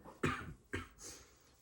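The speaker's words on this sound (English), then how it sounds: "coughing." Two sharp, harsh coughs close up from a man recovering from the flu, followed by a softer breathy exhale.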